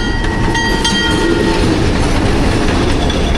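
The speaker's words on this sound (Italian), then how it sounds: "Che sta passando il treno addirittura." A train near Machu Picchu rumbles steadily past close by, with a continuous roar of wheels on rails and faint metallic ringing.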